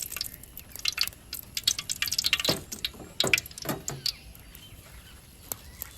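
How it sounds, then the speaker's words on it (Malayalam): Gold Winner cooking oil pours into a pot over ghee while preparing Thalassery dum biryani, giving close, uneven drips and liquid splashes in short bursts, with no talking. "കുറച്ച് ഗോൾഡ് വിന്നർ കൂടി ഒഴിച്ചു കൊടുക്കുന്നുണ്ട്."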